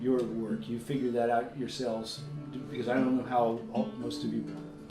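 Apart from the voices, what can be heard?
None of the usual background noises is heard.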